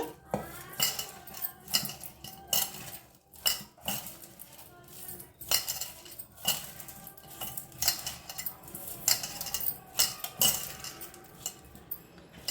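A metal utensil scrapes and clinks against a pot while onions are stirred into an Andhra-style pachi pulusu, with irregular bursts of sharp knocks and scrapes, close and fairly loud.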